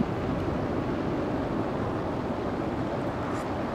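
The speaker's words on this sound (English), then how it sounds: "I think the waves have got even louder" Ocean waves crash on the shore during a rainy car-camping trip, a continuous loud broadband roar and wash with no clear breaks, heard alone without talk.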